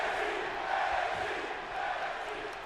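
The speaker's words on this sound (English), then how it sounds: "Crowd here tonight is hot in Orlando, Florida." Steady arena crowd roar from the WWE 2K22 video game, an NXT 2.0 show set in Orlando, Florida, a dense continuous cheering wash that swells slightly and holds throughout with no voices standing out.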